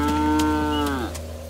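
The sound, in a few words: cow mooing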